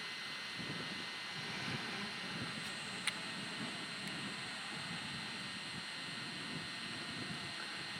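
A drone making a fast, low flyby gives a steady, fairly loud whirring drone over rushing wind noise for the whole stretch, with no one talking.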